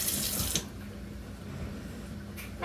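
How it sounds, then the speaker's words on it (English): Water runs from a kitchen sink faucet during dishwashing, a steady rushing stream that stays constant throughout, with a brief splash or clatter at the start and end. "Turn off the water, buddy."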